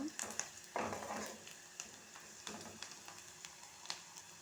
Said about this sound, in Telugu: నూనెలో చెక్క అయితే ఇలా కలుపుకుంటూ ఉండాలన్నమాట